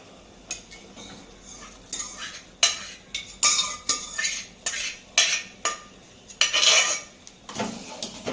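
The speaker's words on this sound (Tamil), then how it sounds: "வேக வச்ச ஜவ்வரிசியை சேர்த்துட்டு நல்லா கலந்து விட்டுக்கலாம்" A spoon stirs semiya and sago in a cooking pot, making a series of rhythmic metallic scrapes and clinks, roughly one per second, close and fairly clear.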